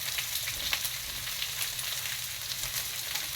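Potatoes browning in a frying pan with peppers for a ham, mushroom and cheese frittata make a continuous close crackling sizzle with no talk.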